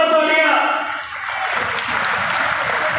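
Crowd at a political blessing rally in a market town clapping together, a dense steady wave of applause that swells after a brief dip and continues evenly, with a voice heard over the start.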